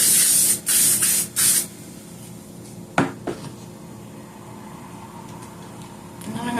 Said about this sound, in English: I'm gonna go in with my L'Oreal Paris Infallible 3-second setting mist and just kind of zhuzh up my face